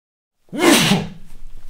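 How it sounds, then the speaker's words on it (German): A single loud sneeze close to the microphone. It has a sudden sharp burst and a breathy, voiced tail, followed by soft rustling. "jetzt muss ich glaube ich niesen."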